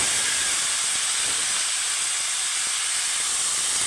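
Five-spice tempering for a banana stem curry hisses in hot oil as an even, loud, close sizzle held steadily for a few seconds without pause.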